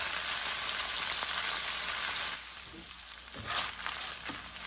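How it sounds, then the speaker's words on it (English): Bacon browning in a frying pan over medium heat, a steady close sizzle and crackle that drops a little halfway through, with a few stirring scrapes and spits and no talking. "Now in the same pan, I'm going to brown the bacon. Just over medium heat."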